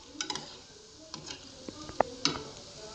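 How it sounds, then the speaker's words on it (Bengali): Small balls of bread-and-milk dough for gulab jamun fry in hot oil, giving a faint, quiet crackle with scattered small pops and ticks. "তো এই যে তেলে ফ্রাই করছি"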